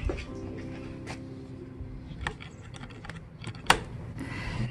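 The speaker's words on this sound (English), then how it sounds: "So that's how you fold this wagon stroller" Folding a Beau Jardin push pull wagon stroller: close clicks, rattles and one sharp snap as frame parts and poles lock into place, set against a low background hum.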